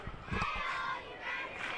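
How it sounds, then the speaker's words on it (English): A home crowd at a youth football game cheers and yells in a swelling, distant roar that rises, dips and picks up again. "the home crowd here getting into it"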